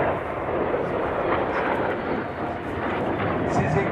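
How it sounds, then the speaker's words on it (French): Four Dassault Rafale fighter jets break formation at the Melun Villaroche airshow, a sustained heavy jet roar filling the air, with a commentator talking over it. "Les 4 Rafale au break."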